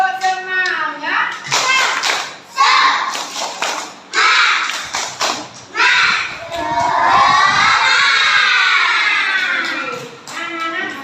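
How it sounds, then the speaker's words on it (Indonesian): Primary schoolchildren in an Indonesian classroom chant together with rhythmic hand claps, a teacher's voice leading and loud young voices shouting along in bursts, close and lively. "Yuk, tepuk semangat dulu. Tepuk semangat."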